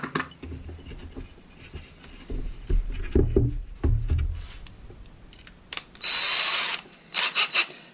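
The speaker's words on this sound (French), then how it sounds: "comme j'utilise des forêts à métaux, le cône du coup fait que des fois dans le bois tendre ça se balade un peu" A power drill bores a pilot hole in softwood with a 4 mm metal drill bit, giving short whirring bursts and clattering handling noise, then a loud steady whine near the end, close up with no talk.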